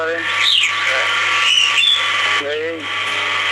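A talking pet bird gives a few short squawking calls and chirps in the foreground, over steady background hum and faint noise.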